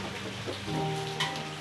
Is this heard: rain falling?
yes